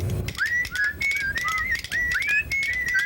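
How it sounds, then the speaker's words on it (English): A person whistling a tune alone, a quick run of bright, sliding notes in short phrases, close and clear with no talk. "you start whistling and kind of help pass the time"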